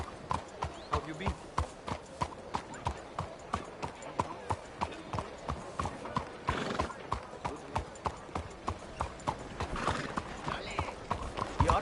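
A horse in Red Dead Redemption 2 clip-clops steadily, its hooves striking in an even, regular rhythm that continues the whole time. The sound is moderately close, with a brief whinny-like swell partway through.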